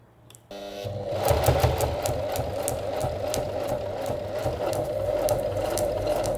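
A sewing machine runs fast, starting abruptly into a loud, rapid mechanical chatter of needle and gears that stays steady and close for several seconds.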